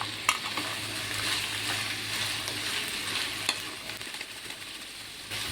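Ginger, garlic, green chilli and onion frying together in a pan: an even, fairly soft hiss of frying that runs throughout, with a couple of faint clinks and no speech.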